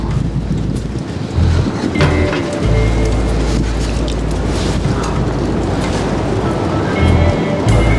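Steady, heavy rain hisses continuously with a low rumbling undertone and occasional louder gusts.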